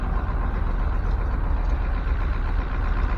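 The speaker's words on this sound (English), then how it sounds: "I don't know why it's having such a hard time idling." A Ford F600 truck engine idles roughly with a fuel pump fault, a loud, close, low rumble that churns unevenly without settling into a smooth beat.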